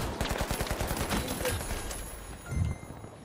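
Rapid gunfire in the shooter game The Finals rattles through a wall in a fast burst of shots, then trails into lighter impacts and a dull thud, close and fairly loud.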